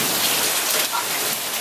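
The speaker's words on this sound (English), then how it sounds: "it's raining so hard that like the streets are flooded" Heavy rain pours down with hail during an Australian storm that has flooded the streets, a dense, loud, continuous roar of drops hammering surfaces throughout, with no speech.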